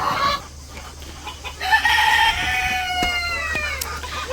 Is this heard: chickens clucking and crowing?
yes